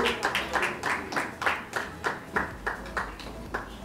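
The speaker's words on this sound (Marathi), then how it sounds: "मुग्धा गोडबोले यांच्यासाठी सुद्धा जोरदार टाळ्या" An audience claps for the writer at a Marathi TV serial launch ceremony, a moderate run of rhythmic hand-claps that rise and fall in even bursts without cheering.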